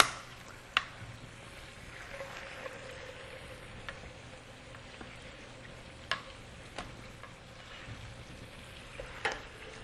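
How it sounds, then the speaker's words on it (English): Pork chops being tossed in red wine sauce in a pan give a soft, low sizzle, with a few sharp clinks and taps of utensils scattered across it, no talking. "we just want to put them back into the sauce for literally 10 seconds, just to get the sauce nice and all over it"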